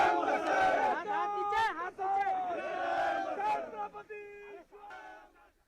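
Maha Vikas Aghadi party workers celebrate an election win in Nagpur, a crowd raising loud, chanting cheers and shouts that swell and dip in waves throughout, fading slightly toward the end.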